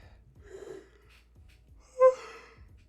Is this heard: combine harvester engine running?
no